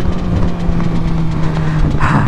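A Yamaha MT-09 motorcycle engine pulls hard during a power wheelie, a loud, close, continuous drone with a rising tonal note, heard against wind rush.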